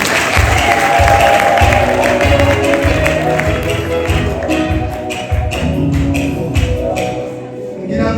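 Applause and clapping at a wedding ceremony right after the vows, a loud, sustained crowd clatter with rhythmic bursts of claps and some voices mixed in throughout.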